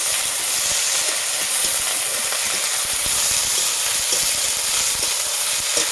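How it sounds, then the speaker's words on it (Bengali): Onions frying with a ginger, garlic and dried chili spice paste for a poppy-seed dish give a steady, close hiss and sizzle with small crackles throughout, no voices. "ওটা এখন আমি এটার সঙ্গে পেঁয়াজটার সঙ্গে ভালোভাবে এটা একটু ভেজে নেব।"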